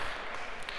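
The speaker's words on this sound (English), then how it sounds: "Maybe a round of applause." A lecture-hall audience at a computer science class claps in a short burst of applause, a dense crackle of many hands at moderate distance lasting under a second.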